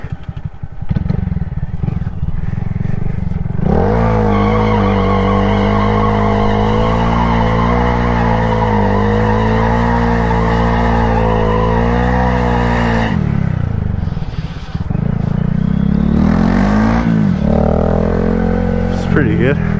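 A car does a burnout, its engine roaring loud and steady for about ten seconds with a grinding, skidding tire sound, then easing off before revving up again.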